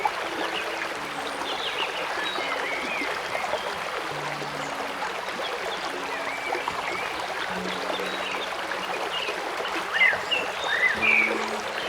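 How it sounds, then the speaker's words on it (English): River water at St. Mary, Jamaica, flowing steadily with a continuous trickling, babbling rush, close and fairly loud throughout, with a few faint bird calls near the end. "we finally reached the river"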